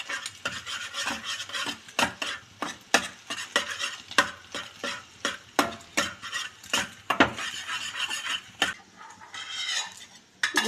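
A thick mixture stirred in a pan for homemade noodles, the spoon scraping the metal in repeated sharp strokes over a steady sizzle, close and fairly loud.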